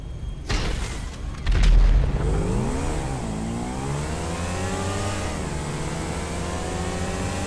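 Pegassi Bati 801 and Pegassi Oppressor motorcycles drag race in Grand Theft Auto V. A heavy boom sets them off, then engines rev hard, rising in pitch as they accelerate and holding a loud, steady drone.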